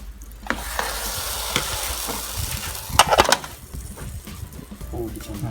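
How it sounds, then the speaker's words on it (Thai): Batter hisses and sizzles loudly in a hot pan on a homemade coiled-pipe stove while making Thai golden cup cakes, with clinking and scraping of a utensil and a brief voice underneath. "ตั้งใจฟังเสียงกระทะ ถูกกับแป้ง จะมีเสียงฟู่ขึ้นมา"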